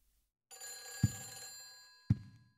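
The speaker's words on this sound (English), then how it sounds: "Oh! The phone!" An old-style telephone bell rings in Silent Hill 4, a sustained metallic trill with two dull thumps in it, fairly close and clear, with no voices.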